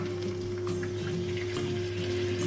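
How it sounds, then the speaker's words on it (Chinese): Clean water poured into a pan of frying egg, giving a steady, close running and hissing wash of liquid that holds even throughout with no talk. "接着我们再加入一些清水"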